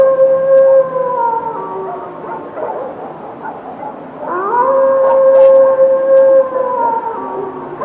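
A jackal howls at night in a wooded rural setting, long loud wavering tonal cries rising and falling in two drawn-out bouts, close and alone with no talk.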